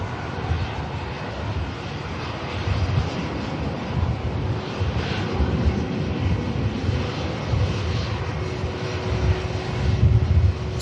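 A British Airways shuttle jet taxis at Manchester Airport, a steady broad engine rumble with a faint whine held at moderate distance, swelling slightly toward the end, with wind buffeting the microphone.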